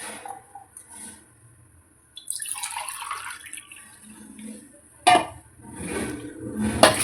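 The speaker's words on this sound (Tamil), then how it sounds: "3 டம்ளர் தண்ணி ஊற்றிருக்கேன்" Water is poured from a tumbler into a cooking pot for basmati rice in a kitchen, splashing and gurgling in uneven bursts, with light clinks of metal vessels between pours.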